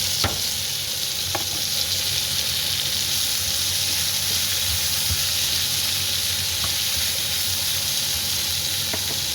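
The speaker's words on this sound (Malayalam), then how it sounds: "സെല്ലറി സ്പ്രിംഗ് ഓണിയൻ അരിഞ്ഞിങ്ങനെ വെച്ചേക്കുന്നത് അതിനകത്ത് ചാടി ചെയ്ത് കൊടുക്കണം" Celery and spring onion sautéing with pork in a pan: a steady broadband sizzle holds throughout with a few sharp utensil clicks against the pan, close and fairly loud, no voices.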